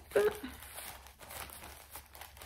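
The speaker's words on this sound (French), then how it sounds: "j'ouvre mon enveloppe devant vous, devant vos yeux ébahis" Paper crinkles and tears as a mailed envelope package is opened with scissors, a close, brief rustle near the start followed by quieter crumpling over a steady low hum, with talking nearby.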